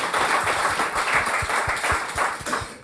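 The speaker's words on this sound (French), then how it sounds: "on peut vous applaudir" An audience at a round-table event in Normandy gives a short round of applause, a dense, even patter of clapping with a few louder hand claps close by.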